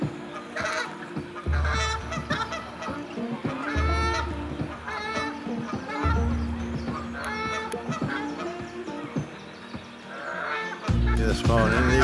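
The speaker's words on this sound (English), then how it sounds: "these Canada geese, whether they're starting to mate because they're making a right racket." Canada geese in a park honk repeatedly in a loud, close, overlapping racket, some calls sharp and others drawn out, continuing throughout.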